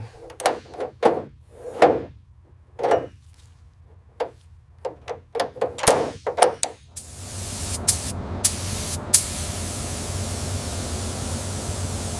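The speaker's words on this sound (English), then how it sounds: "All right, give me the mallet." A mallet taps a 1969 Jaguar E-Type body panel in a series of sharp, irregular knocks with short pauses between them, followed by a steady broadband hiss that fills the rest of the clip.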